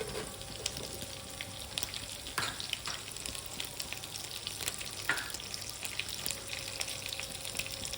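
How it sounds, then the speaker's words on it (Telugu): Green chillies and onion fry in a pan with a pinch of turmeric, a constant low sizzle broken by scattered clicks and scrapes of stirring, close by with no talking. "పసుపు కొద్దిగా ఇవన్నీ మంచిగా ఫ్రై కావాలి"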